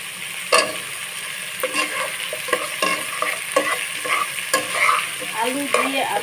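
Potatoes frying in hot oil for a mirka fish curry, a steady close sizzle broken by repeated scraping and stirring strokes of a spatula against the pan.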